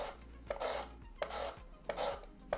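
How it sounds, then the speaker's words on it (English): A knife julienning peeled daikon radish and carrot on a cutting board gives four rhythmic rasping strokes, each with a sharp tap where the blade meets the board, close and clear. "Peel, then julienne the daikon radish and carrot"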